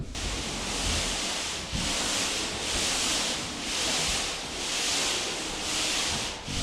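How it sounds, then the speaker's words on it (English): Steady rhythmic scraping of sandpaper over a primer-coated wall, repeating in long even back-and-forth strokes, close and continuous with no voices. "now what we are doing is working on sanding that primer coat"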